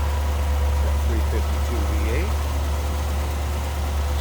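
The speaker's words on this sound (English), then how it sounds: "That 352 V8. Smooth running." A 1959 Ford Fairlane 500 Club Victoria hardtop's 352 V8 idles smoothly with the hood up, a steady low rumble, while someone talks briefly over it.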